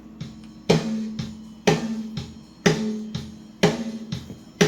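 Snare drum recorded with a top microphone, struck in a steady pattern of sharp, close hits with ringing resonance and softer ghost notes between the accents.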